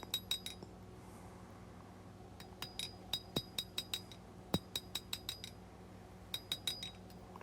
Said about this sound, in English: Planish my hammer marks out as I go.